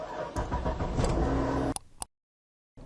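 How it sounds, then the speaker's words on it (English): A car engine turns over and catches, running loud and rough close by for under two seconds before cutting to near silence, then a low rumble returns at the end. "We're about to hop into my car and get going."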